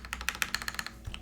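Rapid, evenly spaced clicks of keys on a mechanical keyboard, typed at a steady pace, close and moderately quiet with no voices.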